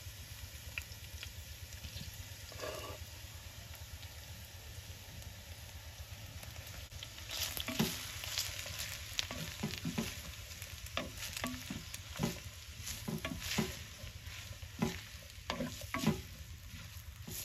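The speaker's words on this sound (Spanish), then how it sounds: "Ya calentó el aceite, voy a poner la cebolla a freír. Enseguida le voy a poner la carne." Onion and shredded pork hit hot oil in a pan, a soft frying hiss that swells into busier crackling with clattering stirs and scrapes partway through, under a low steady hum from the kitchen.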